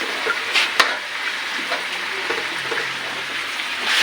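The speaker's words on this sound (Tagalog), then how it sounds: "May garlic fry nilalagay ko" Garlic fries in a pan and is stirred, giving a steady, loud sizzle with an occasional scrape or clack of the utensil, close up and without talk.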